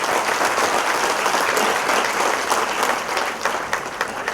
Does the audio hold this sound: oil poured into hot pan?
no